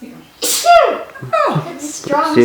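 A close, forceful sneeze, then a second explosive burst and a short remark spoken right after.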